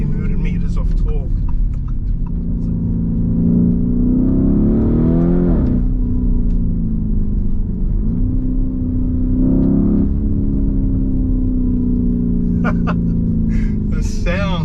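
A 2021 Lamborghini Urus SUV accelerates hard with the windows down, its engine climbing through two strong revving surges. It sounds loud and close, with a steady road rumble underneath.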